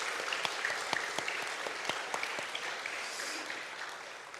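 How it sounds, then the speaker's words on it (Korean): A church congregation at a Korean Sunday worship service claps together, a dense, steady burst of applause that gradually fades toward the end. "응원해 주시면서 박수 한번 해주세요"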